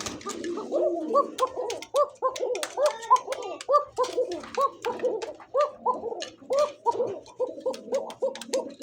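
Many pigeons coo at a wholesale pigeon market in Rajshahi selling Lahori, Koka, Raj-golla and Giribaz breeds, with dense, overlapping, rhythmic coos close by and faint ticking sounds.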